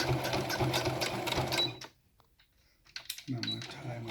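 Close sewing machine stitching elastic onto a fabric face mask: a fast steady whirring run, a short pause with faint handling, then the stitching resumes at full speed, with some talk around it.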